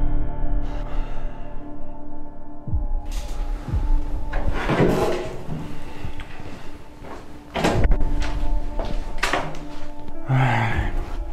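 A door closes as someone leaves, with several wooden thumps and knocks spread across a scene full of other shuffling and movement noises.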